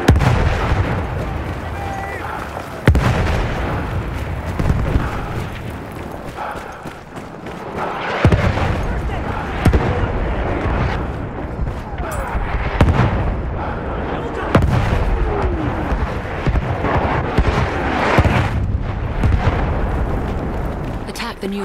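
Enemy artillery barrage in Battlefield 1 pounding away with repeated loud booming blasts every few seconds, layered over continuous gunfire and battlefield din, with shouted voices mixed in.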